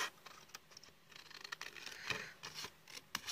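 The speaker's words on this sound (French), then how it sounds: "On va juste la couper en deux." Scissors cut a card in two with a series of close, crisp snips and scraping rustles spaced unevenly.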